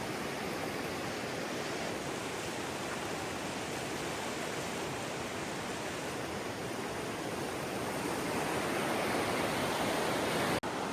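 River rapids in a video game rush in a dense, unbroken roar of white water, loud and constant throughout, with a single sharp click near the end.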